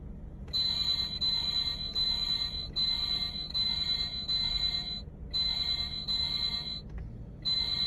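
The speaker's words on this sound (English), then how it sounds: "Oh, that's a siren." Electronic siren from a battery-powered toy fire truck, a steady shrill wailing tone that loops continuously with a few brief breaks, close and loud over a low background hum.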